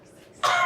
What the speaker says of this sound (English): Continue coughing.